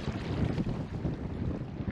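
Wind blows across a lake during a canoe trip, a steady rough rush battering the microphone with no speech.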